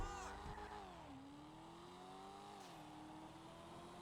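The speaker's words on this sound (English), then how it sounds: "This car just snarls nicely." A car engine in a video game snarls steadily at moderate volume, its pitch sliding down and then rising again, with a brief sharper burst near the end.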